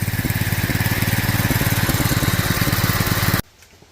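A propane-converted lawn tractor go-kart engine idling high, a loud, close, rapid chugging putter with a steady rhythm that cuts off abruptly near the end.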